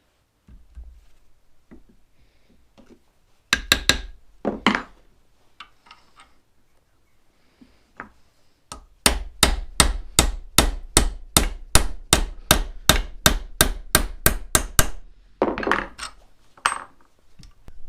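A hammer strikes rivets into a brake shoe on a vintage Massey Ferguson tractor drum brake: a few scattered metallic clanks, then a rapid run of about twenty sharp, close, ringing blows, and a few last taps, with no talk.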